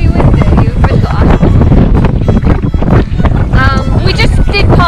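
Strong gusts on a coastal walk between Faversham and Whitstable batter the microphone with loud, continuous buffeting and roar, and a voice comes through faintly beneath the wind.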